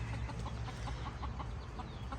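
Chickens cluck in short repeated bursts over a steady low rumble, a flock close by with soft overlapping calls.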